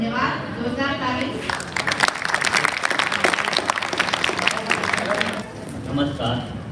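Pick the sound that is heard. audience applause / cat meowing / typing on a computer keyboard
audience applause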